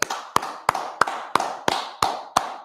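Crowd at a gathering clapping in unison, eight sharp claps in a steady rhythm of about three per second, loud and close with no talk over them.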